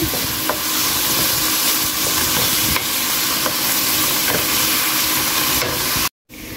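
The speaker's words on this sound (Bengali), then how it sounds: "বেশ কিছুক্ষণ চিংড়ি মাছ আর পেঁয়াজ ভেজে নেব।" Prawns and chopped onion fry in a hot pan, giving a steady, loud sizzle with scraping stir strokes throughout, cutting out briefly near the end.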